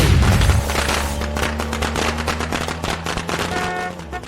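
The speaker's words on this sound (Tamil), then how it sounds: "வெளியில பட்டாசு வெடிக்குது பாத்தியா?" Firecrackers burst outside in a rapid, loud string of crackling pops and bangs that keeps going throughout, with no voices over it.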